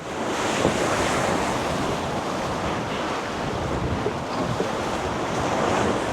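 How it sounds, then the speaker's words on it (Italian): Steady rushing wind buffets the microphone over the continuous wash and splash of waves, loud and unbroken throughout. "Sfidiamo il vento e il mare"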